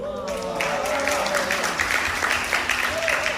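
An audience at a corporate presentation claps steadily in a dense patter, under a speaker's amplified voice in a hall.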